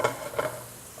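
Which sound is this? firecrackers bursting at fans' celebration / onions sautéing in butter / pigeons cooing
onions sautéing in butter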